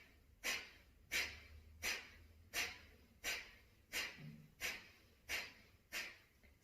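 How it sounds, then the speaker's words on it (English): Kapalbhati yoga breathing: nine sharp, forceful exhalations through both nostrils, evenly spaced less than a second apart, each a short close puff of air in a quiet room. "inhale from both the nostrils and start exhaling from both"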